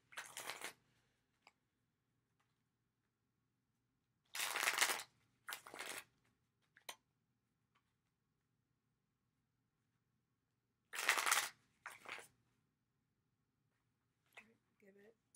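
Tarot deck being shuffled for a three-card reading, heard as a few separate bursts of brisk card riffling close by, with quiet pauses in between and soft handling clicks.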